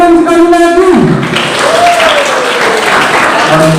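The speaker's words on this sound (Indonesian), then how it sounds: "Tepuk tangan sekali lagi." A crowd claps in steady applause at a school scholarship event, with sustained musical or sung tones ringing over the start.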